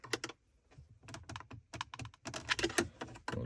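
Plastic trim clips on the radio panel of a 2006 Chrysler 300C dashboard pop loose as the panel is pried out, making an irregular run of sharp, close snaps and clicks with no talking.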